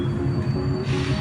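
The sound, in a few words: train moving on rails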